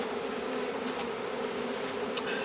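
Honeybees buzzing steadily around an out-yard beehive at a vineyard, a dense continuous drone close by with a few brief louder passes as individual bees fly near.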